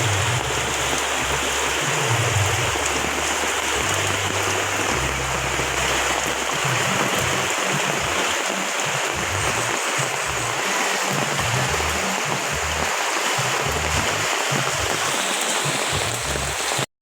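Floodwater rushing loudly and steadily during Typhoon Enting in Purok 7, Barangay Cag Abaca, a continuous broadband roar with no break, close and enveloping, with faint low rumbles underneath.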